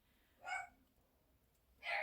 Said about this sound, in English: That's her barking now.